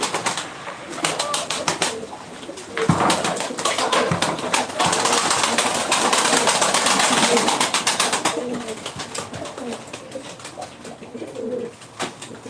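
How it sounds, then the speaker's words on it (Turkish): Tumbler pigeons cooing at a live bird auction in Ankara, with soft repeated coos, some wing flaps and taps, all set against a dense, noisy crowd background that swells in the middle and fades toward the end. "Aha burada dostum kuşlar"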